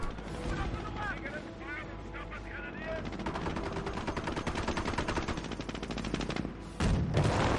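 Rapid bursts of machine gun fire from an MG in a real-time strategy game match, dense and repeated under busy battle noise with explosions and a louder barrage near the end.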